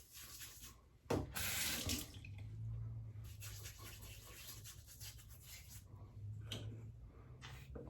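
Tap water running into a sink during a wet shave with a Barber Upp Green Stick double-edged safety razor, a steady close rush with a sharp splash near the start and brief bursts later, no talking.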